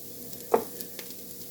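A spoon stirs food seasoned with paprika and salt in a pan: one short scraping swish stands out above a faint, steady sizzle, with a couple of softer touches after it and no talking.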